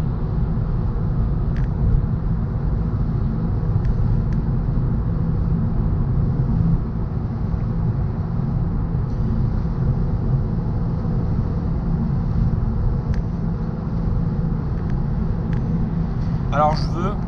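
Car driving on a French motorway during a driving lesson, heard from inside as a steady low road and engine rumble lasting throughout, with a brief clicking near the end.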